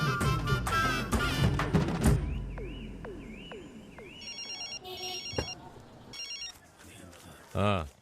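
A telephone rings in short repeated electronic bursts, with thumps and clatter between them in a quiet room.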